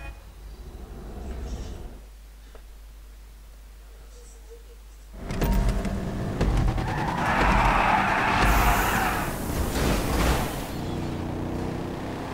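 Cars racing in GTA V, a loud engine roar and tire noise swelling in after a quieter stretch, with a broad rushing burst in the middle and steady driving noise continuing to the end.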